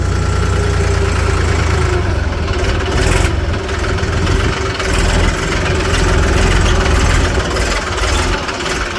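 A tractor engine idles nearby with a steady, loud, low rumble and slight knocking throughout.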